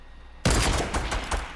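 Rapid automatic gunfire from Fortnite Battle Royale with SMGs, a sudden loud burst that breaks out after near silence and continues as dense, repeated shots with several sharper cracks, close and without speech.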